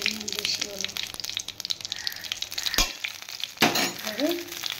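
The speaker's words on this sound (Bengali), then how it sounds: "কালো জিরে ফোড়ন দিলাম, দিয়ে এবারে শাকগুলো আমি কেটে রেখেছি, এভাবে ধুয়ে ঢেঁকির শাক কেটে রেখেছি, ভেজে নেব" Dhenki greens fry in hot oil with nigella seeds. There is a bright, close sizzle with bursts of stirring, sharp crackles and some clatter, and a faint voice can be heard at times.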